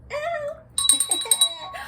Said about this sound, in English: We're gonna ring the bell for the money